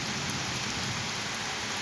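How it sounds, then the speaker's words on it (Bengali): Heavy rain driven by strong wind roars in a loud, dense, continuous wash with no pauses and no voices. "বন্ধুরা দেখেন কি পরিমাণে বাতাস হচ্ছে, পাশাপাশি বৃষ্টিও হচ্ছে সেই তুমুল আকারে।"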